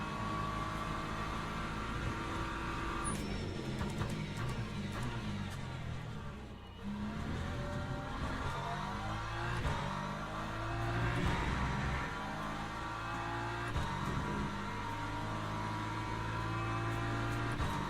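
A race car at Sebring passes with a loud engine drone that shifts pitch as it goes by, sounding close and sustained throughout, with no talk.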